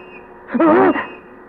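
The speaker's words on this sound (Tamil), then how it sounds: "என்னது விசில் சத்தம் கேக்குது?" One short warbling police whistle blast, about half a second long, sounds loud over a low steady hum.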